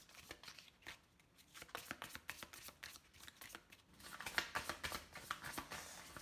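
Tarot cards being shuffled and laid down close by, a soft continuous riffle of papery flicks and slides that grows denser and louder toward the end, with no talking.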